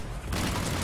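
A dense, roaring detonation in the shooter video game Mass Effect 3 fills the whole clip, loud and continuous, like a blast mixed with rapid gunfire.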